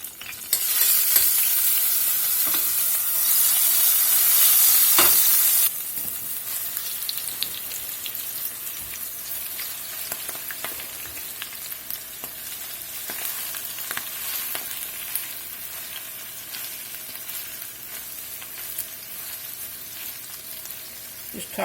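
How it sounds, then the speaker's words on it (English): Chopped garlic sizzling in olive oil in a skillet, a bright crackling fry that hisses loudly at first, then settles into a quieter steady sizzle with occasional stirring clicks. "Just a little olive oil in the skillet. Get a little chopped garlic in here."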